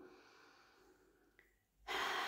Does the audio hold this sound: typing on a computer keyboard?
no